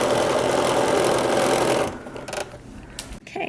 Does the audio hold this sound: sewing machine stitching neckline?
yes